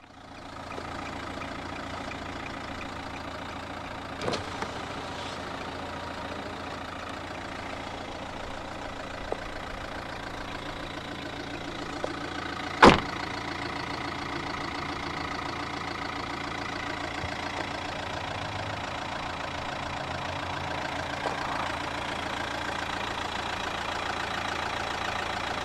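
A 2015 Nissan Juke 1.5 dCi diesel engine idles steadily with a low, even hum, broken by a couple of faint clicks and one sharp knock partway through.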